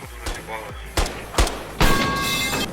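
Several sharp video game gunshots crack out at irregular intervals in Squad, single shots with short echoing tails, the last one louder and followed by lingering noise.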